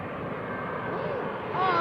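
An airplane passes near runway 27R at Heathrow, its broad steady engine roar holding at close range and swelling slightly louder toward the end.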